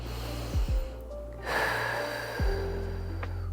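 A deep breath taken while holding a shoulder stretch during a movement session, heard as a few close sniffs and one long audible exhale, quiet and unaccompanied by talk.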